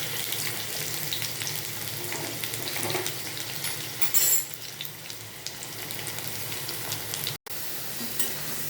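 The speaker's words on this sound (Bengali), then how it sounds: "ফ্লেমটা মিডিয়াম করে আলুগুলো 20 থেকে 25 সেকেন্ডের মতো একটু ভাজা ভাজা" Potatoes fry over a medium flame in a pan, giving a steady, close sizzle with light stirring scrapes throughout and a brief drop to near silence late on.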